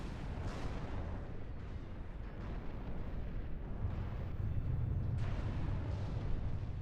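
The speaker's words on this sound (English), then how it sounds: "Yes! Rocket artillery." A rocket artillery barrage in the strategy war game Order of War sounds as a continuous, distant rumble of booms and blasts, fairly faint, swelling slightly toward the end, without voices.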